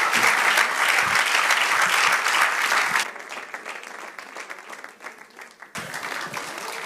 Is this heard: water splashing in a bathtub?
no